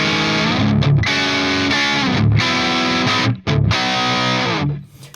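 Electric guitar through a high-gain Redhead amp patch on a Tonex modeler, heavily distorted chords ringing out in long sustained strums with brief gaps between them, loud and close, ending in a fading decay.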